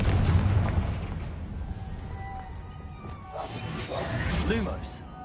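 A Confringo explosive spell goes off in Hogwarts Legacy as booming blasts with whooshing swells, set under a speaking voice and a background game score.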